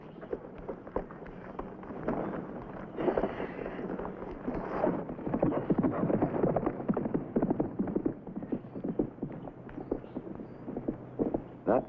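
Rapid, dense hoofbeats clatter steadily throughout, a horse clip-clopping close by with continuous rhythmic impacts and some low rumble.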